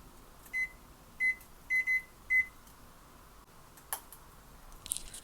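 Five short, clear microwave keypad beeps in an uneven rhythm as the timer is set to four minutes, followed by a soft click and faint handling noise.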